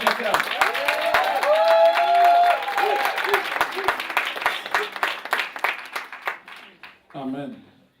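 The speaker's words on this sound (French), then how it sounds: "Est-ce qu'on peut juste donner une bonne main d'acclamation pour le pasteur Jean-Claude" A church congregation applauds its pastor, dense sustained clapping from a crowd with voices calling out over it, fading out near the end before a brief spoken word.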